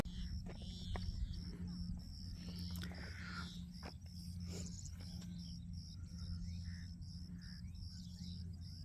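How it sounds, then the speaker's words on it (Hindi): High steady cricket chirring with occasional bird chirps, faint and outdoors in daytime near Vrindavan during harvesting, over a low engine-like drone. "दिन में भी झींगर की और चिड़ियान की मस्त आवाज़ आ रही है एकदम।"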